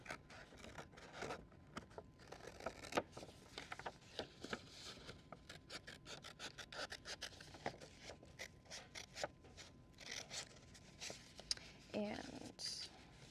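Scissors snipping out a paper stencil pattern: quick repeated close crisp cuts and rustling of paper in a steady irregular rhythm, quiet, with someone talking over the cutting.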